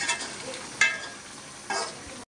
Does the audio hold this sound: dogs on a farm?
no